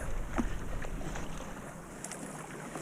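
A kayak paddled with a modified Epic small mid wing paddle cut to 180cm, with soft, irregular splashes of blade strokes through the water under steady wind noise.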